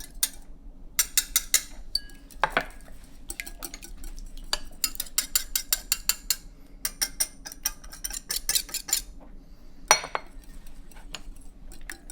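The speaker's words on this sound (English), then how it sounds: "So I'm gonna beat the eggs and add all the spices." Eggs beaten with spices in a bowl for a Persian zucchini frittata, a rapid run of clinking whisk or fork strikes against the bowl, close and busy, pausing briefly a few times.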